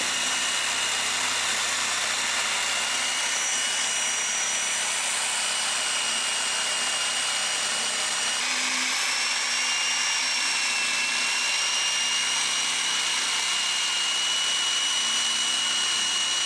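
A power tool saws through tinder fungus with a continuous high whine that holds steady throughout, shifting slightly in pitch partway through, with no talking.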